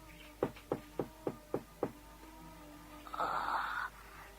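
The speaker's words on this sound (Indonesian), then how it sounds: "Coba ku ketok pintunya ya." Knocking on a door: six evenly spaced close knocks in quick succession, followed after a short pause by a brief louder creak or scrape.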